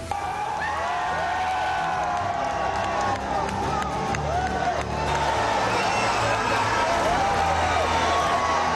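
A large crowd of students celebrates a victory at Shivaji Park in Mumbai, with continuous cheering, whoops, whistles and clapping all around, and voices shouting within the dense crowd noise.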